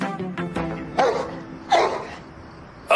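A dog barks in three or four sharp, separate bursts, fairly close, with a low background hum between them.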